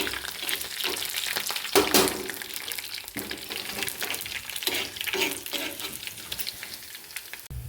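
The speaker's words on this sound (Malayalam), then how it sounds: "ഇനി നമ്മുടെ വറ്റൽമുളക് രണ്ടെണ്ണം ഇട്ട് കൊടുക്കുക." Two dried red chillies sizzle and crackle steadily in a pan of hot oil while a Malayalam salted-mango curry is prepared, a close, continuous frying hiss with occasional stirring scrapes and no talk.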